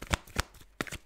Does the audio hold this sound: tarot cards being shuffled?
yes